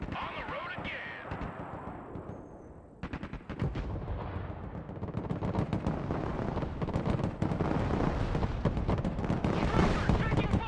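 Gunfire in the Broken Arrow war game, dense crackling bursts and rapid shots layered over heavy rumbling, growing louder and busier toward the end, with voices mixed in.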